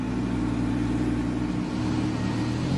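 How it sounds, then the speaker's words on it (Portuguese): A brand-new Audi R8 V10 engine idles right after its first start, a loud, steady, close low rumble that holds even throughout with no voices. "após quase 8 horas de um meticuloso trabalho à mão, o novo R8 é ligado"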